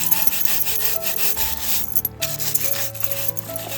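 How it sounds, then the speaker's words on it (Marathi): Mud-covered freshwater crabs are scrubbed clean with a brush, producing fast, repeated scratchy rubbing strokes, close and continuous with a few brief knocks, and no talking. "पुन्हा असं बरसन घासायचं आहे म्हणजे क्लीन होतात."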